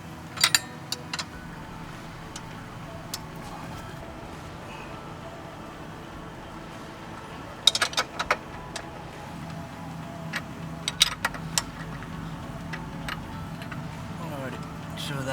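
A wrench works loose the rear axle nut on a Yamaha R3 motorcycle, giving a few sharp metallic clicks in short clusters over a steady low background hum.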